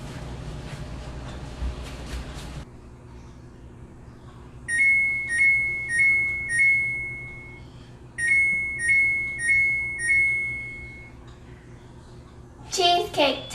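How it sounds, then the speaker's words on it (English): An oven timer signals a finished cheesecake with two bursts of four bright electronic beeps in steady rhythm, following a voice and ending with a brief sharp noise. "Cheesecake timer."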